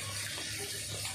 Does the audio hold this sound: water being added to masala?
yes